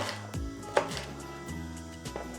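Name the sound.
chopping vegetables for paprika potatoes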